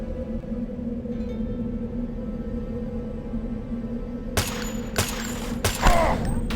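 Gunfire in the game Deus Ex: a few sharp, loud shots land in the last couple of seconds, each a short broadband crack over a steady low game hum.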